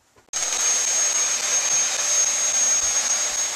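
A Hoover vacuum cleaner starts up abruptly and runs with a loud, steady whine and airy roar, close by and continuous with no talking over it.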